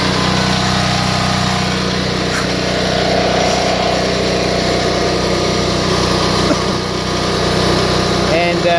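A small portable generator with its lid left off runs at a steady, loud drone with a buzzy engine tone, heard close by outdoors beside a house, with faint background noise and no talk.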